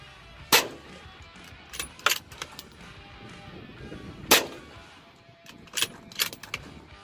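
Rifle shots from a Savage Engage bolt-action in 6.5 Creedmoor, fired outdoors: two loud, sharp reports several seconds apart, each followed by a few fainter cracks and clanks in a quiet background.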